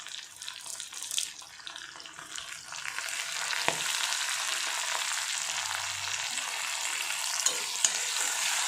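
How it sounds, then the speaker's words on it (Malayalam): Mushrooms fry with curry leaves as they are stirred in a pan, a close, steady hissing sizzle with scraping and light knocks, growing denser and louder after the first few seconds. "നന്നായിട്ട് ഇളക്കി കൊടുക്കുക കേട്ടോ."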